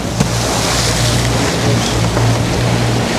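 Nor-Tech 392 powerboat idling steadily in choppy water, a low continuous engine drone under a constant wash of wind and slapping chop, with no talk.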